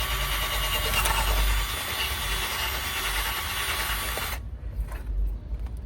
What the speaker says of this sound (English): I'm just gonna drill all the other ones.